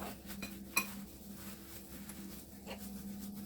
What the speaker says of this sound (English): Or you could use a fork and your hands like this.